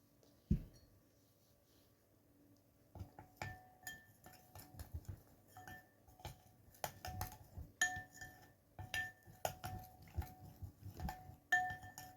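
A spoon clinks and scrapes against the sides of a cup, stirring cocoa into water in quick irregular strokes, close by and fairly quiet, with no talking.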